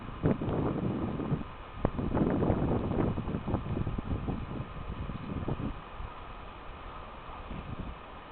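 Heavy wind roars and buffets the microphone in low, uneven gusts that are strongest early on and ease toward the end, with no voices.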